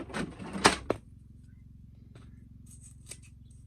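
Scissors snip through the tangled roots of a root-bound houseplant, with a few sharp close cuts at the start and a fainter snip or two later over a low background hum.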